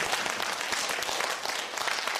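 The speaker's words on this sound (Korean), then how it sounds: "신 위원장님 김경임 선생님, 김상도 선생님, 최규 선생님, 우리 병도 선생님한테 마지막으로 다시 한번 힘찬 박수 보내드립니다." Audience applause at a judging and selection event, a dense, steady clapping from a sizable crowd that continues evenly throughout with no talk over it.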